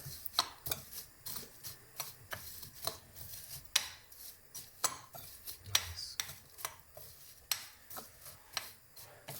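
Pasta kit ingredients being mixed with garlic-infused oil, heard as a series of close, fairly regular scraping and clacking strokes of a utensil against a bowl or pan, with no talk.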